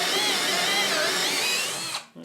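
A power drill boring with a bit, a continuous high whine with wavering pitch that winds down and stops near the end, followed by a short clunk.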